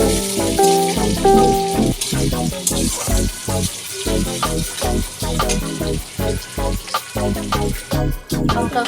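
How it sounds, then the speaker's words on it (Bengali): Onions frying in a wok give a loud, continuous sizzle with irregular crackles and stirring scrapes, close up, running throughout with no talking. "এবার আমি কড়ার মধ্যে পেঁয়াজ দিয়ে পেঁয়াজটাকে লাল লাল করে দিয়ে নেব"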